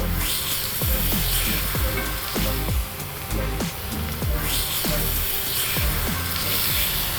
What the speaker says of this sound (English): get a really nice hard sear on both sides first, so about a minute each side.